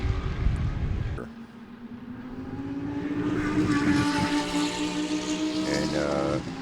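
GT race cars roar past at Sebring, their engine notes rising and sustained as they accelerate down the track, loud and at a middle distance after a brief bit of ambient noise at the start.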